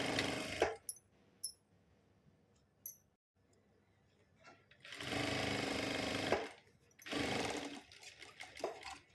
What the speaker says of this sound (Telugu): ఇలా పొడువుగా ఎంత పొడువు ఉందో అంత పొడువు అయితే కుట్టేసుకుంటూ రావాలి